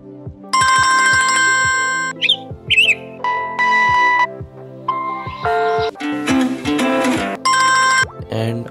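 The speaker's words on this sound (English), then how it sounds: "And also loop your ringtone." A phone's full-charge alarm app plays a loud, close electronic ringtone: bright melodic tone bursts and chirps in a quick repeating pattern, several phrases in a row with no talking.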